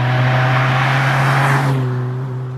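A Toyota car with a 2ZZ-GE engine pulls hard as it accelerates, giving a loud, close, rising engine whine with steady harmonic tones that eases slightly toward the end.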